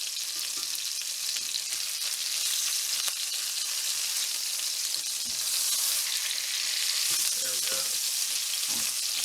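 Hamburger steak patties of 80-20 ground beef sizzle steadily in a pan, a dense, continuous frying hiss with occasional soft pops and a brief clatter as they are flipped; no one speaks.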